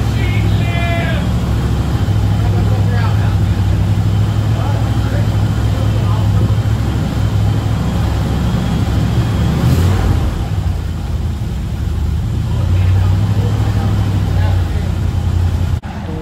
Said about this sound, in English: Moving it back and forth a little bit to get the torque converter to fill back up